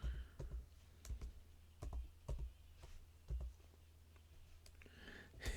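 Keys clack on a computer keyboard during C++ coding practice, quiet bursts of typing with short pauses between them, close to the microphone in a still room.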